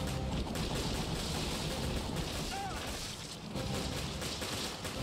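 Gunfire in Resident Evil Revelations as enemies are shot: a steady stream of rapid shots over a busy game soundscape, held at an even, moderate level.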